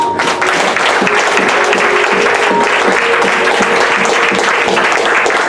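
A church congregation claps loudly and steadily for several seconds, with dense, even applause and a faint voice or tone under the crowd.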